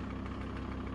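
A tractor engine runs with a steady, heavy low rumble and vibration in the Antazavė pine forest reserve where sanitary felling is under way. It stays close and even throughout, with no talk over it.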